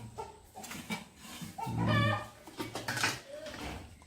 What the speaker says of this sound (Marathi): तिकडं कोंबड्याला कोणतरी दिसलाय